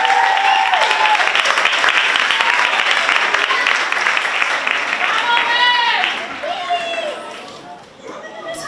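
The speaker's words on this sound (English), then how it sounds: "Can we give them another round of applause?" An audience at a Miss Glamour pageant applauds the judges with loud, sustained clapping that fills the room. A voice talks over the applause before it thins out and fades toward the end.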